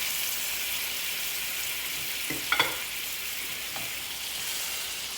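Bananas caramelizing in a hot pan for Thai flambéed bananas give off a steady close sizzle, with a couple of brief louder crackles and utensil clicks partway through and no voices.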